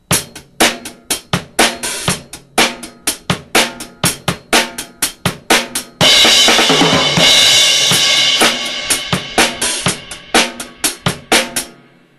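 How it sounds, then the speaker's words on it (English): A drum set plays a steady rhythm pattern of close, crisp, evenly spaced hits, broken midway by an embellishment with a crash-like cymbal wash before the pattern returns. "Figure 34 is rhythm pattern number 7 and an appropriate embellishment notated together."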